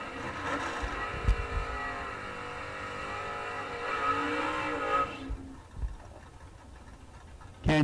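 Two door-car drag racers, a 1967 Camaro and a Monza, roar down the strip with rising engine pitch as they accelerate, then fade into the distance at a drag racing event.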